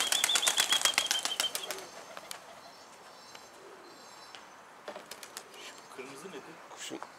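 Pigeons take off in a burst of loud, rapid wing flaps close by, then fade as a few scattered flaps and faint coos follow outdoors.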